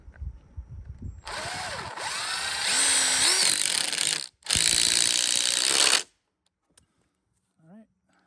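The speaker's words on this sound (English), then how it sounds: "So now I just gotta run these anchors in." A power drill drives anchors into deck framing on a Hawaii lanai build in two loud, sustained runs with rising and falling motor pitch and a short break between them, then brief faint knocks.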